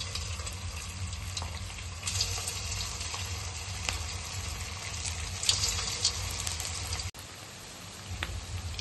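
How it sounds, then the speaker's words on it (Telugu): Vegetable manchurian balls sizzling in hot oil over a low flame, a steady close crackling fry with occasional sharper pops and spatters, alone without talk. "ఆయిల్ వేడయింది. మనం ఇప్పుడు ఈ బాల్స్ని వేసుకుందాం."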